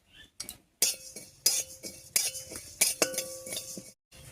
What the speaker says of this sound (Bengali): এবারে শুকনো খোলায় একটুখানি মশলা ভেজে নিচ্ছি।